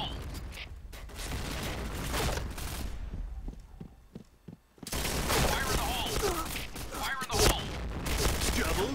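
Rapid bursts of gunfire crackle and boom in the shooting game Point Blank, with a brief quieter lull of single shots before the firing resumes heavily.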